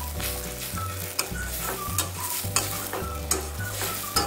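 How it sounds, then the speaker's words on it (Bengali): Masala spice paste stir-fried with a splash of water for a red lentil dal, a soft steady sizzle broken by repeated scraping strokes of a spatula in the pan, close and fairly quiet. "এবার অল্প একটু জল অ্যাড করলাম আরেকবার মশলাটাকে ভালো করে কষিয়ে নিচ্ছি"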